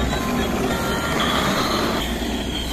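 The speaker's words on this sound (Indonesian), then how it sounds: "Sekarang kita akan mainkan kereta api bersih" A Thomas and Friends multi express toy train runs along its track with a steady, close rattling whir and a faint clicking of wheels, with no voices.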